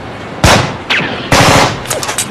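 Several loud bursts of gunfire, automatic-sounding volleys separated by short pauses, with a few lighter shots trailing off at the end.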